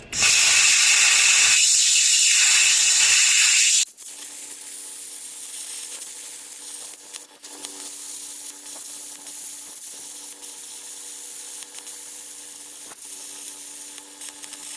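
An ARCCAPTAIN Cut55 Pro plasma cutter set to 20 amps cuts metal with a loud, harsh hissing rush for about four seconds, then stops abruptly, leaving a quieter steady mechanical hum with faint tonal whine and occasional clicks.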